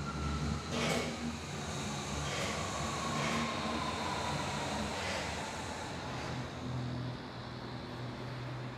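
A train or rail car pulling away from a station, with a steady low rumble and rising mechanical whine under broad rail and traffic noise, continuous and fairly close.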